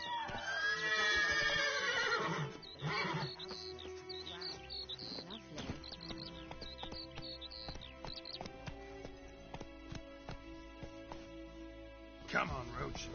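Roach, a horse in The Witcher 3, gives a loud whinny at the start, followed by game ambience and a musical score. The whinny is heard alone, with no talk over it.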